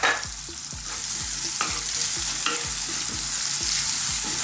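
Chopped red onion fries in a pan with a loud, continuous sizzle, punctuated by a regular series of scraping stirs roughly twice a second, close and without any voices.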